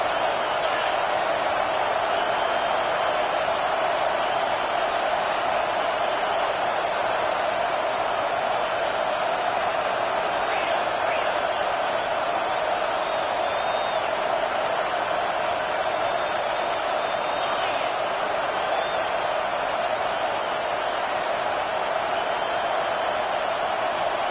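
A loud, steady roar from the stadium crowd at an LSU football game fills the whole stretch, a dense wash of distant voices with no breaks.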